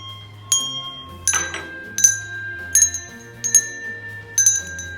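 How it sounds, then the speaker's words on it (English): Song bells, hand bell instruments, ring out as single struck notes at an unhurried, steady pace, each a bright clear chime with a lingering tone over a soft low background melody. "an example of these song bells"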